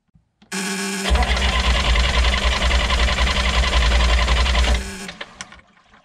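A Perkins 4-108 diesel engine cranks with a steady mechanical whir and a deep rumbling drone. After about four seconds it cuts off, leaving a few faint clicks and rattles.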